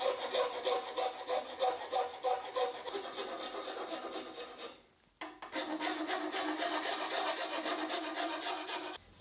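Sandpaper rasps against a carbon bicycle frame to strip paint, steady back-and-forth scraping strokes close by, pausing briefly midway before resuming.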